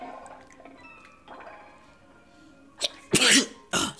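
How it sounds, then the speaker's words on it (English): A person coughs several times in quick, loud bursts close to the microphone after quiet game background sounds. "Sorry, it's cough."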